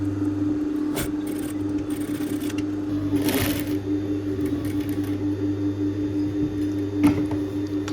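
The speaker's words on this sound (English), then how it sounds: "let's stitch them together as flat as possible" Sewing machine stitching pieces of children's lazy pants together, a steady close mechanical whir with a low hum running throughout and a few brief clicks and rustles of fabric handling.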